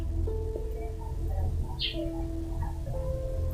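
A few faint, brief bird chirps sound in the background of an outdoor village scene, over a steady low rumble of ambient noise with no clear voices.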